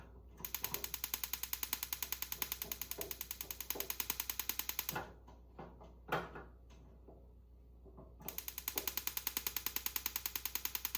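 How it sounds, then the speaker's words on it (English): Battery-powered electronic igniter on a portable propane fireplace: rapid, evenly spaced sharp clicks in a fast steady train, close by, pausing for a few seconds of light handling noises before the clicking resumes. "Push it in so the clicker goes."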